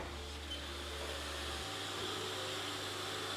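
A Haas dual-spindle CNC lathe hums steadily while transferring a part between spindles, with a low motor tone that abruptly shifts pitch midway as the mechanism moves.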